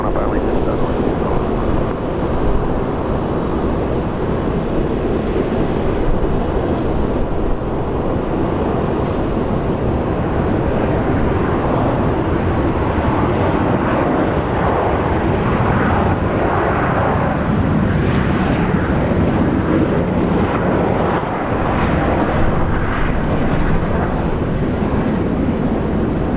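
A jet airliner lines up the full length of runway 19 left at Brisbane International Airport at sunset, bound for Perth, its engines a steady, loud, broad roar that holds unchanged throughout.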